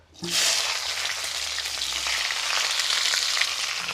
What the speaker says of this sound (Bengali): কড়ার মধ্যে দিয়ে দিব কিছুটা সাদা তেল আর একটু ঘি। এবারে দিয়ে দেবো বিনসগুলো